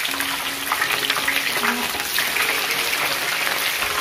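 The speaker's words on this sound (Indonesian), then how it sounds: "Ini ayamnya kita goreng yang tadi yang sudah kita rebus itu." Pieces of boiled, pre-seasoned chicken fry in hot oil for a soto ayam, a dense steady sizzle and crackle close by, with a few faint clinks.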